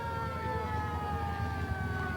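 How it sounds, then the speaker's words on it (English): A fire engine siren wails continuously in a 1992 town parade, a steady sustained tone over low traffic rumble, moderately close, with no voices. "And another fire engine coming up behind that."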